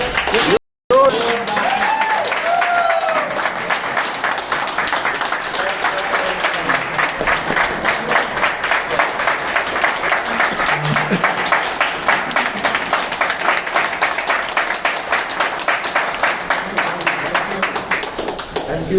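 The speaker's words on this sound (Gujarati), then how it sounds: "તો જોરદાર તાળી સાથે કરોડપતિ લીડર" An indoor crowd at a business meeting breaks into sustained applause, a dense steady clapping that runs almost the whole time after a brief cut near the start, then thins slightly toward the end.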